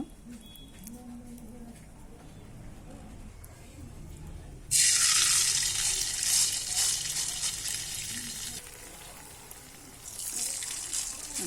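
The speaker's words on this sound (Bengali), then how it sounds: "এগুলো আবার ভালো করে ভেজে নেব" Snacks frying in hot oil, a faint background bubbling that turns into a loud, dense crackling sizzle as more pieces go in, easing off then rising again.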